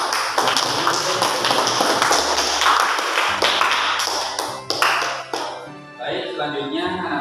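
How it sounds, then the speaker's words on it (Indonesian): A classroom of children clapping together at the end of a lesson, loud brisk bursts of applause with voices chattering and calling through it, tapering off near the end. "tepuk tangan"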